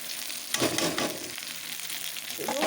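Fried vegetables tipped into a pan of hot spices for a vegetable dal: a steady, loud sizzle with stirring scrapes and rustles that swell near the start and again at the end.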